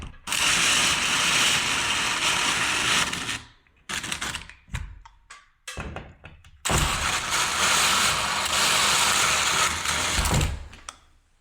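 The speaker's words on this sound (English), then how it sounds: "You can hear the sound of the drill change as it begins to tighten up" A power drill drives screws to snug down a wall light mounting against sheetrock, loud whirring bursts with a long run, several short stop-start pulses, then another sustained run as the pitch shifts while it tightens.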